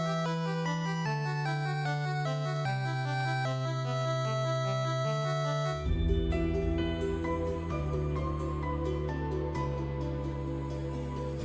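Music from the Chaos Shrine level of the original Final Fantasy I video game plays as a clear, steady chiptune melody over a bass line, with a fuller section partway through and no voices.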